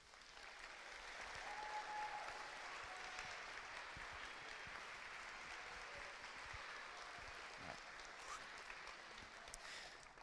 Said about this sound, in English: if you could please stand and we'll give you a round of applause